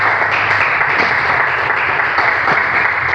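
Congregation applauding in a church service, loud continuous dense clapping from many people filling the room throughout.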